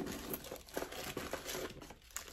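Paper receipts and coupons crinkling as they are pulled out of a Marc Jacobs tote bag, a close, busy run of soft rustles and crackles with no talking.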